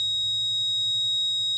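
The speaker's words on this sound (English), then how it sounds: "red LED alarm for the wrong finger" A fingerprint car door lock sounds its wrong-finger alarm, a continuous loud, high electronic buzzing tone that holds steady and close before cutting off abruptly.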